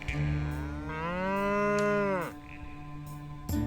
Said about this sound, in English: I tried to get the perfect audio capture of a moo